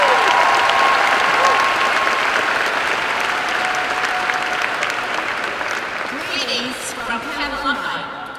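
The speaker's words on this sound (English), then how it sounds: "Another round of applause for the Glee Club." Large university convocation crowd gives the Glee Club a loud round of applause, dense clapping at full strength that slowly thins and fades toward the end.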